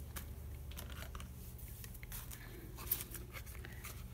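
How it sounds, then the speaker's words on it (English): Scissors cut through a piece of foam rubber up close, a run of quiet irregular snips and crisp clicks over a low room hum, without speech. "let's use our scissors to cut this"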